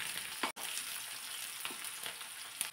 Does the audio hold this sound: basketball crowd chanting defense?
no